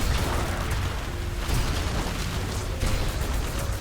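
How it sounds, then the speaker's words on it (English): Explosions in the fast-paced shooter ULTRAKILL, where a direct hit on a falling enemy sets off a stronger blast, form a loud, continuous booming roar that fills the whole stretch with dense rumbling bursts. "Direct hit on falling enemies will cause a stronger explosion."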